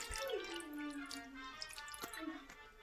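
A small splash of water is poured into a container of smoothie ingredients, with faint trickling and dripping sounds and a light tapping, heard close and quietly.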